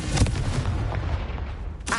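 A Confringo curse explosion from the video game Hogwarts Legacy lands as a deep, booming blast that rumbles on, then a sharp pop cuts in at the end.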